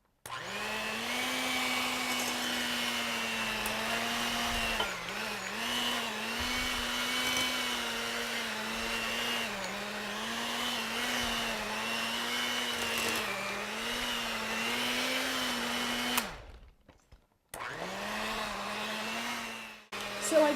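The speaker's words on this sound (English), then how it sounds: "I'm going to begin beating the cream cheese and gently fold in the sugar" An electric hand mixer whirs steadily as it beats cream cheese with sugar for a New York style cheesecake, a loud continuous motor drone with slight wavering pitch, cutting out briefly near the end before resuming.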